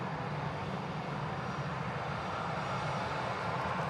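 An Airbus A320neo airliner taking off at Manchester Airport, its engines a steady broad roar heard at some distance with no voices over it.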